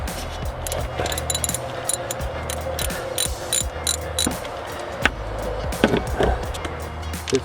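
A 1/2-inch ratchet with a 15 mm socket works loose the water pump bolts on a Chrysler 300, giving rapid, close, repeated clicking in bursts with brief pauses and metallic clanks.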